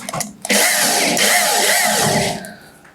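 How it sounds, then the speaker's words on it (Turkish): Electric drill bores into a wall with hammer mode off, a loud whining grind that starts abruptly, holds steady for about two seconds, then winds down. "Matkabımın sivri ucunu işaretlediğim yere koyuyorum darbesiz olarak delme işlemine başlıyorum."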